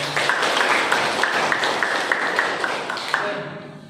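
A classroom group claps together after a presentation, a brief burst of many hands that holds steady, then thins out and fades near the end.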